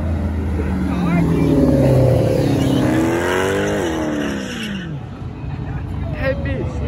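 Car revving at a large outdoor car meet in Michigan, the engine note rising and falling in a loud, close sweep, with a crowd shouting and chattering over and around it.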